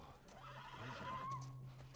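A horse whinnies in The Last of Us video game, a rising, drawn-out neigh with faint hoof clip-clops, set over a quiet game background.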